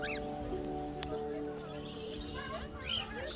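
Small birds chirp and tweet in short, high bursts over a steady background hum at a bird park in Germany, with several calls overlapping.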